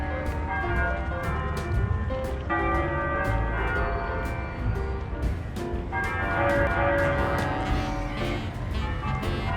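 Church bell chiming in a lakeside mountain town on Lake Como, several loud overlapping strikes ringing steadily throughout with a rich sustained tone, close and continuous.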